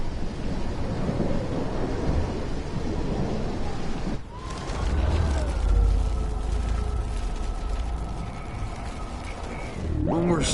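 Thunderstorm in the video game Life Is Strange, a steady wash of rain and wind broken by a deep rumble of thunder, with a voice speaking over it.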